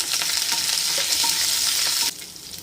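Chana dal and curry leaves hit hot oil with a loud, steady, close sizzle while cooking Tamil aval upma. The crackle holds for about two seconds and then drops away suddenly.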